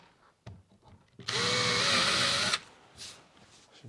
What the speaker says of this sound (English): So we'll just drill little holes.